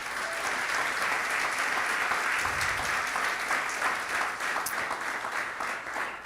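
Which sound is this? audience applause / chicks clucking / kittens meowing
audience applause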